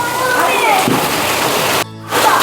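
Steady, loud hiss of the season's first rain pouring down outdoors while people bathe in it, broken by a brief dropout near the end, with voices mixed in.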